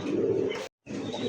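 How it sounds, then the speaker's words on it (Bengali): A satin pigeon, one of a pair, gives close, resonant coos in two bursts separated by a short silence. "একজোড়া শাটিন কবুতর। এটা ডাকটা দেখেন"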